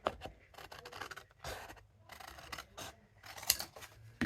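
A craft knife slices through card for a papercraft greeting card, giving a series of short scraping cuts and rustles close by, in irregular bursts with brief pauses between strokes.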